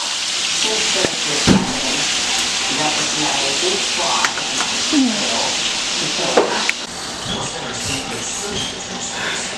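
Chicken pieces, six of them, cooking in a pan for smothered chicken give off a steady hiss and sizzle that carries through the whole stretch, with a few sharper crackles and pops mixed in.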